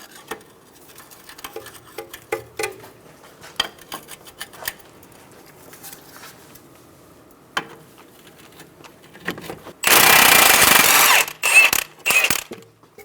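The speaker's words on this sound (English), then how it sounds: "We're going to remove the nut." Nut being removed from a front strut and spring assembly of a 2010-2014 Subaru Outback with a 19mm wrench; scattered faint metallic clicks and taps, then a loud sustained burst of impact-tool whirring near the end, followed by two shorter bursts.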